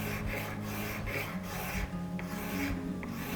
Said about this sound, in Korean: 이 부분을 줄을 이용해서 다듬어 주도록 해보겠습니다